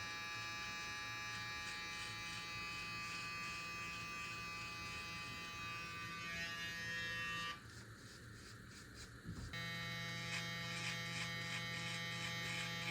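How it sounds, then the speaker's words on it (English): An Evo electric beard trimmer buzzes steadily while it lines up the neckline of a beard, a close, constant whine that dips briefly as the blade presses against the skin, then returns to full hum. "use that trimmer to line up the bottom neck as well"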